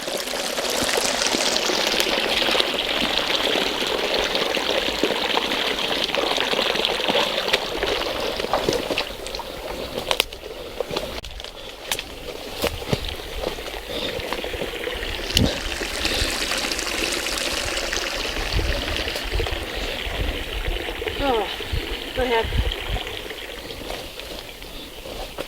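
A rain-swollen forest creek rushes over and through a beaver dam, a steady loud wash of flowing water that fills the whole stretch without pause, close by and unbroken.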